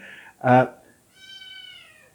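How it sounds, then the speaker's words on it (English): Two house cats meowing, a short mid-pitched cry followed by a longer drawn-out wavering meow, close by and fairly loud with no talk over them. "Excuse my cats, they're being bloody annoying."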